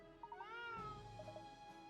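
A cartoon cat in the Layton game, Katrielle and the Millionaires' Conspiracy, gives a short, clear, rising-and-falling meow, close and alone.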